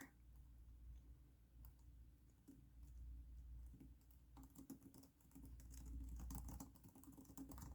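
Quiet, steady typing on a computer keyboard that has a few sticky keys, with irregular soft clicks and taps close up and no talk.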